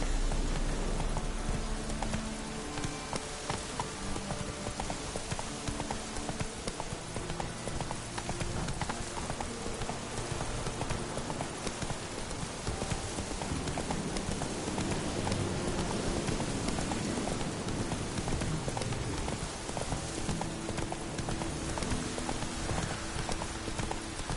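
Roach, the horse in The Witcher 3, gallops with a dense, continuous drum of hoofbeats that holds loud and even for the whole stretch.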